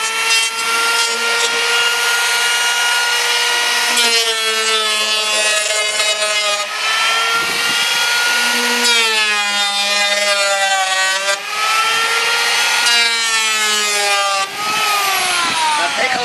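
A power planer shaves the edge of a wooden door, its motor whining loud and close, the pitch sagging and recovering as the blade bites through the wood pass after pass.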